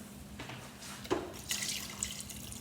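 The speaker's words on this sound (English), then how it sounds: "I'm going to put a little more water in there to cover the top of it" Water trickles and drips into a pot of blackberries on the stove, a soft, close pour with a few brief splashes.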